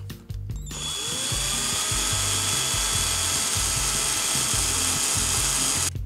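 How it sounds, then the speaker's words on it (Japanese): A power drill boring a hole in a pipe whirs steadily at close range for several seconds, its motor whine joined by rhythmic low grinding and clicking, starting and stopping abruptly. "アクリル棒が入るさ穴をねドリルで開ける"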